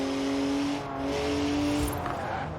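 A BMW in Forza Horizon 4 drives with a steady, loud engine drone that holds a sustained tone and shifts pitch slightly, with no voices over it.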